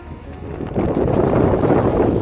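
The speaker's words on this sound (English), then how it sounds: "Wind!" Wind buffets the microphone on an open ferry deck, a steady loud rumbling roar that rises partway through and then holds, with no voices.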